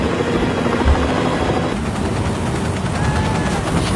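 A helicopter flies toward Antarctica, its rotor chop and turbine whine loud and continuous, staying close throughout without any talk over it.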